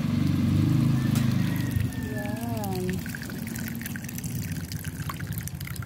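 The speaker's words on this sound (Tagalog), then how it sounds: "At ang pangalawang gata ang kasunod." Coconut milk from the second pressing pours into a cooking pot holding garlic and onion, a steady liquid splash and trickle that softens into a quieter simmering hiss.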